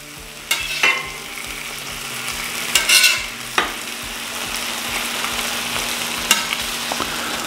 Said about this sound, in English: we're gonna get this Taylor ham browned up here